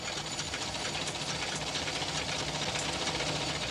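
A tailor's sewing machine stitching trousers in a workshop in Paharganj, a steady dense mechanical whir that runs loud and unbroken throughout, with no talk over it.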